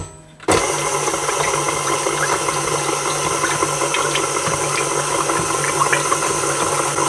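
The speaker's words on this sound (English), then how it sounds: "I'm gonna use the paddle attachment until we mix these lot." A stand mixer with the paddle attachment starts abruptly and runs, beating eggs and butter for sourdough bread dough with a loud, steady mechanical whir and light clatter, close by, with no talking.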